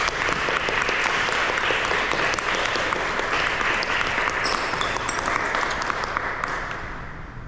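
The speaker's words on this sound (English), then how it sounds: "Please start clapping right now for Mr." Steady, dense applause from an audience welcoming a speaker before a reading, continuous clapping throughout that tapers slightly at the end.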